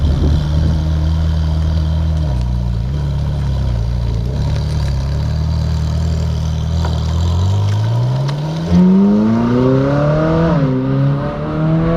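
A 2015 Ferrari 458 Speciale Aperta in race mode pulls away from near, its engine droning steadily before climbing in sharp rising revs through the gears, loud and with no voices.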